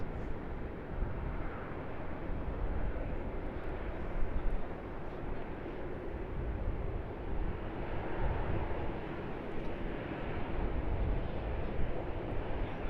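A Virgin Boeing 737 taxis toward the gate at Sydney Airport, its engines giving a steady broad rumble and whine at moderate distance under wind noise, continuous throughout.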